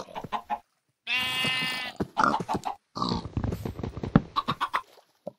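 Pigs grunting and oinking in a survival video game, several short grunts in quick, irregular bursts, close and fairly loud, with no talk over them.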